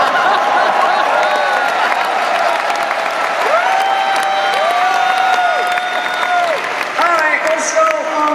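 A concert crowd at a show in Cologne claps and cheers in a loud, steady roar, with a voice carrying over the applause throughout.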